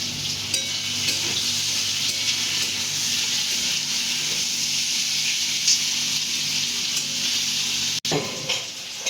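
Mustard seeds and dried red chillies fry in hot oil, a loud, close, continuous sizzle with a low steady hum beneath, a few small spits and one sharp click near the end.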